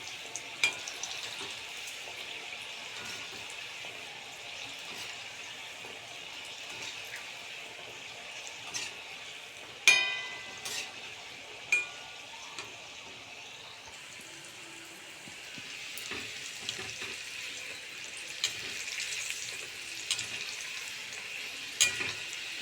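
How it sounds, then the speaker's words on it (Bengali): Nimki dough snacks deep-frying in oil in a wok make a quiet, steady bubbling sizzle, punctuated by several sharp clinks and scrapes of a utensil against the metal. "চলো একটু নিমকিটা ভেজেই নিই"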